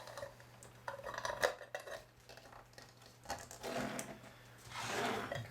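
A tin of aircraft dope for silk-over-tissue covering is closed up with quiet metallic clinks, scrapes and taps of the lid, close by over a low background hum.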